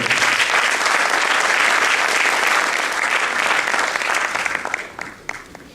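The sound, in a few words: audience applause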